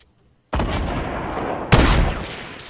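Auto sniper rifle gunfire in Fortnite Battle Royale: two loud, close shots about a second apart, each with a sharp attack and a long, rolling decay.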